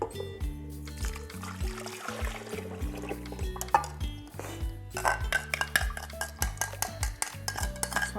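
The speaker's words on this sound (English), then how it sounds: "And then I'm going to add the water, sugar, and yeast carefully into here." Water, sugar and yeast go into a mixing bowl for bread dough, with clinks and scrapes of utensils against the bowl and brief pours and stirring at close range, without speech.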